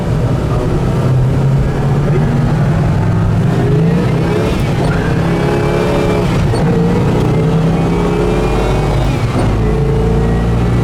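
A 1970 Pontiac GTO Judge's large V8 engine rumbles loudly up close, its pitch rising and falling through several revs over a deep, throbbing idle.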